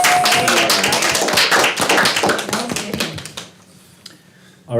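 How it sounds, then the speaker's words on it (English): Attendees at a board of directors workshop meeting give a short burst of close, dense clapping lasting about three seconds, then it fades into quiet room tone. "I think a round of applause."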